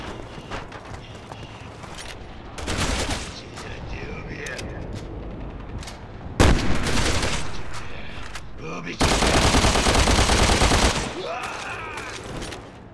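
Heavy gunfire from the Resident Evil 6 video game, in loud sustained automatic bursts between quieter stretches of combat, with voices talking amid the shooting.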